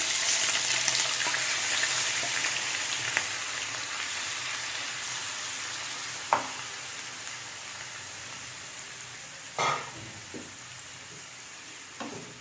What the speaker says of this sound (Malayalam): ചെമ്മീൻ ഇട്ട് കൊടുത്തിട്ടുണ്ട്.